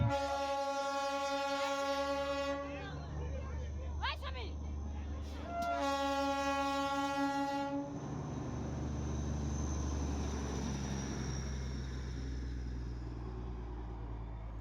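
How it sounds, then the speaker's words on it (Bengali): The diesel locomotive of the Darjeeling toy train blares its horn in long, loud sustained blasts with a short break, then the engine rumbles on under faint background voices. "এটি একটি ডিজেল লোকোমোটিভ।"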